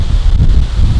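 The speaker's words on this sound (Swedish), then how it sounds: "Det blåser rätt så ordentligt så." Strong wind blowing outdoors at a shooting range, a loud continuous low rumble of gusts buffeting the microphone with no pauses and no talk.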